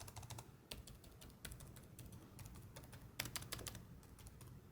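Quick, light keystrokes on an ASUS TUF gaming laptop keyboard with 1.7 mm key travel, a fast uneven patter of soft clicks heard close and alone at low volume.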